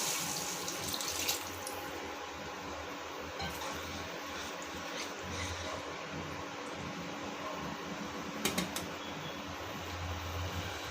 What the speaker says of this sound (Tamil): இப்போ 3 டம்ளர் தண்ணி ஊற்றிடலாம்.